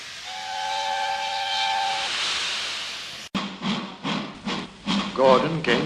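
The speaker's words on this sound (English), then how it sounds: "Presently, he heard a whistle." A steam engine's whistle blows a steady, sustained tone with hissing steam, then cuts off abruptly, followed by rhythmic chuffing of the engine.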